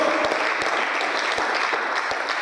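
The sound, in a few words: congregation applause for God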